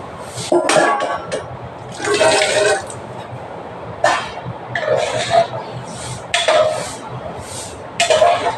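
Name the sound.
water being poured into a pot with mutton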